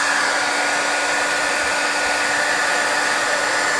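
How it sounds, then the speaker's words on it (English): Heat gun blowing hot air for card embossing, a loud, steady, close whoosh with a constant whine, running without a break and with no talk. "get my heat gun going"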